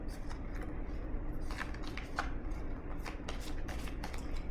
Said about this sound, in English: So I'm going to go ahead and pull a chakra wisdom card now